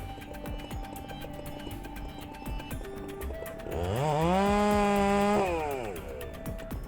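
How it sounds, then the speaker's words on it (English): Chainsaw making the back cut on the side opposite the face cut while felling a tree, its engine idling low then revving up hard into a loud, steady cutting whine that holds for a couple of seconds before easing off. "Next is the back cut, performed on the opposite side of the face cut."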